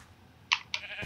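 Sheep bleating on a small Minecraft sheep farm: two or three short, faint bleats spaced a fraction of a second apart over quiet background.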